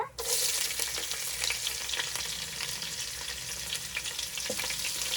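Onions fry in hot oil for biryani, a steady, close sizzle with soft crackles and occasional stirring sounds, continuous and even throughout.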